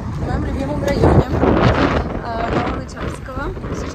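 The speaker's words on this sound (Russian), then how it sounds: "сильный ветер" Strong wind buffeting a microphone outdoors in a city district, gusty rumbling and roaring throughout, with someone talking over it.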